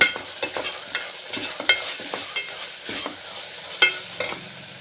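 Food fries in a pan while rice waits nearby for a chicken kurma ghee rice. A close, steady sizzle is broken by frequent scraping stirs and clinks of a spoon against the pan, and no one talks.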